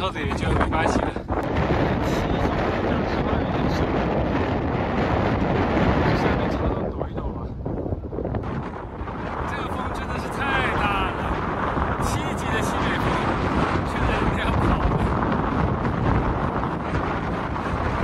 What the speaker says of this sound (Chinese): 就是那边云层吹过来的风，恐怖如斯啊！